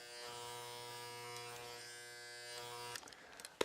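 An electric hair clipper buzzes steadily and close while it cuts a fade through the temple area of curly hair. It holds one even hum and ends with a few clicks and handling noises.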